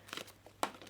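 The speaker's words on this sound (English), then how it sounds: "Okay, so I'm going to shuffle." A deck of cards being shuffled: brief papery riffles and crinkles, close and fairly quiet, with one sharper snap near the end.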